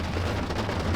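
Heavy rain pours steadily during a storm, a dense continuous hiss of drops on surfaces with a low rumble beneath, loud and unbroken, with no voices.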